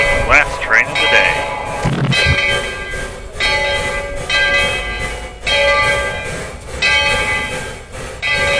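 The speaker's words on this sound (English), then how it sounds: "Tweetsie departs the station with the last train of the day." A Tweetsie Railroad train pulls out of the station on its last run of the day, its bell ringing in a steady repeated clang over continuous rumbling rail noise, loud and close throughout.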